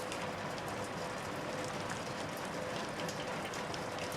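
Steady rain falls in the video game Shadows Over Loathing, a dense, even hiss of drops with no breaks, holding at a constant level throughout.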